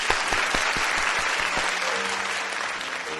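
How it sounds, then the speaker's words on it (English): Audience applause at a youth education gathering, a steady dense wash of clapping from a large crowd, loud and sustained throughout with a few closer individual claps standing out early. "let's reach out to welcome each other with a big round of applause"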